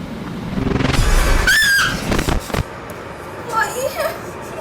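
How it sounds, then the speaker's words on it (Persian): A child's sharp, high scream of fright during a scary game rises over excited voices. Quieter squeals and chatter follow. "تو جیغ برای چی میزنی؟"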